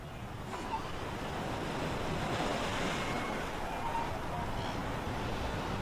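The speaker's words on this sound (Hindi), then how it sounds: "कुछ देर बाद लहरें शांत हो जाती हैं" Sea waves wash and surge in a continuous, broad roar that stays fairly even throughout, with no distinct individual breakers.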